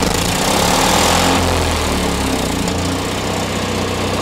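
A Kohler Command 7 propane generator runs steadily up close with a harsh, rattling roar from a broken exhaust, its raw noise filling the clip with no voices.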